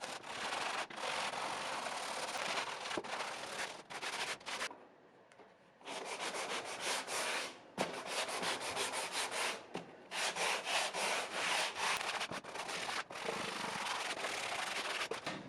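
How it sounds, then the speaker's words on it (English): Hand sanding pieces of a free Craigslist table with 150 grit paper, rebuilt into a fluted dining table, gives long steady rasping strokes in close succession, broken by a short pause midway. "Now I'm going to hand sand each piece, starting with 150 and then 240."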